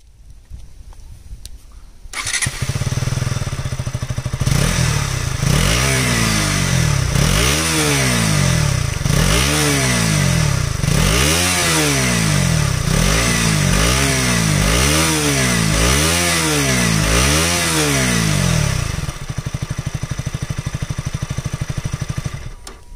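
KTM Duke 200 motorcycle (BS6, 2020) engine started and revved repeatedly, loud and close, with rhythmic rising and falling exhaust bursts over a steady idle, no talking.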